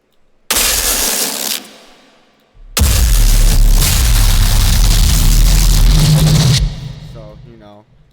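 A heavy bass layer of a remix plays back loud and booming in two sections, a short burst and then a longer sustained roar, with speech following.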